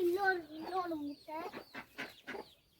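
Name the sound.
hen clucking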